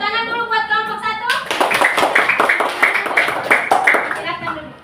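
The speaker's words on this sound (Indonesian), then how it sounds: "Tepuk tangan dulu buat kelompok 1" Children in a classroom clap for a discussion group, a burst of fairly rapid, close claps that starts after a voice speaks and continues for a few seconds.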